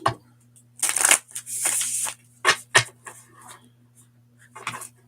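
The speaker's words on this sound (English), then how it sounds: "I've been getting like pretty decent at shuffling" A deck of playing cards is shuffled by hand in several quick riffling bursts, close and crisp, separated by short pauses and lighter taps as the cards are squared up, with a low steady hum underneath and no talking.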